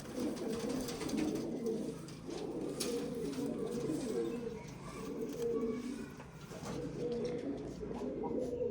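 Kept domestic pigeons coo steadily in overlapping low, rolling calls, close and continuous, with occasional knocks and faint background sounds mixed in.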